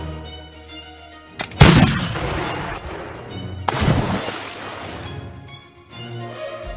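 Two sharp cannon booms from a toy Playmobil pirate ship, the first about a second and a half in and the second near the four-second mark, each followed by a rumbling decay over a quiet background with no talking.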